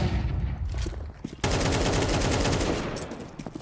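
Rapid bursts of automatic gunfire in Counter-Strike, sharp repeated shots that grow denser and louder partway through, with a voice talking faintly underneath.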